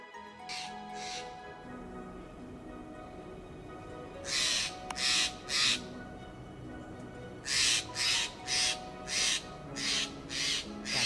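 A Steller's jay gives a series of harsh, shrill calls in short repeated bursts over steady background noise, some paired, some in a rapid run.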